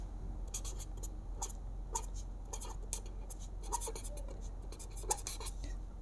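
Pen or pencil writing out a math equation by hand on paper, soft repeated scratchy strokes in short bursts, close and faint over a quiet steady hum, with no talking.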